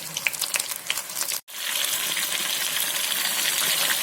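Pieces of mushroom frying in hot oil for mushroom 65, with a loud, continuous crackling sizzle that breaks briefly near 1.5 seconds and then resumes, steady and close.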